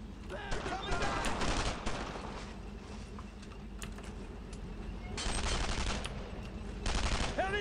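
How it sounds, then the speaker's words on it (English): Heavy sustained gunfire in the Brothers in Arms video game crackles in dense overlapping bursts throughout. There are louder volleys near the end, and battlefield shouting mixes in. "Heavy fire, right there!"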